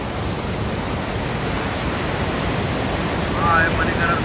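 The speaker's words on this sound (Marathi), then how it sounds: "पार्वती रुद्र रूप धारण करून वाहणारी पार्वती नदी पाहू शकता तुम्ही" The Parvati River rushing through the Parvati Valley near Manikaran, a continuous loud roar of fast, turbulent water that stays even throughout and swells slightly near the end.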